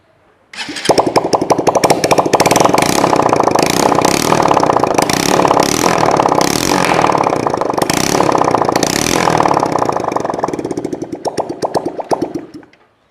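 A motorcycle engine idles loud and close, with its oil being checked. The engine fires up, holds a steady, busy putter for about eleven seconds, then fades and cuts out.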